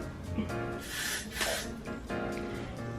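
Hairspray from an aerosol can sprayed onto hair pushed back for a lace wig install, a sustained hissing burst swelling in the middle, close and fairly loud with no talk.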